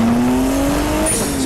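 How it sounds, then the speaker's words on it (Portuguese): Sports car with a turbo in GTA, engine droning steadily with rising pitch as the exhaust pops and a faint high whine from the turbo sets in, loud and close with no talk. "Explosão no escapamento"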